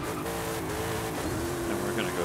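Car engine drone from a racing video game, a steady tonal hum running under spoken talk throughout.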